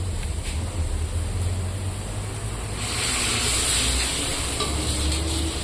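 Chillies fry in a pan with a continuous loud sizzle and crackle, swelling a little midway as the oil hisses steadily and close.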